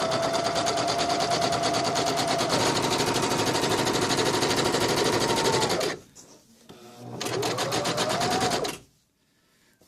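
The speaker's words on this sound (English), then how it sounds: "all I'm going to do is just sew a basting stitch along this edge" A sewing machine runs a basting stitch along the raw edge of a bedskirt, humming in a fast, steady buzz for about six seconds, stopping briefly, then running again before falling silent.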